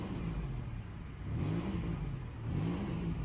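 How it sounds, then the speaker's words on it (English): Flood-damaged Buick Riviera engine with a possible manifold leak revs in two rising swells over a steady idle, heard fairly faintly and up close with no talking. "smoke come off the engine as I rev it up"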